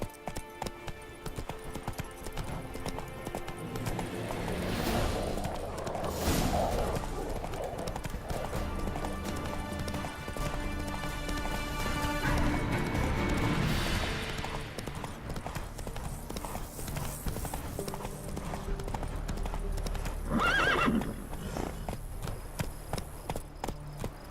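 Roach, a horse in the video game The Witcher 3, trots and gallops with steady rhythmic clip-clop hoofbeats, with a neigh partway through, over ambient game sounds and a spoken voice.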